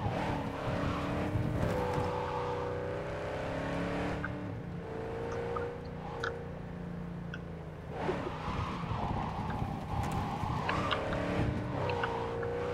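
The Coyote car's engine in Cyberpunk 2077 drones and rises in pitch as it slides sideways offroad, revving in waves with tire scrub throughout, with no voices over it.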